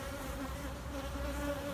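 A steady, dense buzz of many honey bees swarming close by around an opened hive during hive maintenance, continuous and unbroken with no voices.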